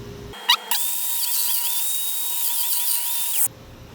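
A power drill bores holes in wood for tenon pins in a woodworking shop, a sustained whining drill tone lasting about three seconds after a short start-up burst, loud and close.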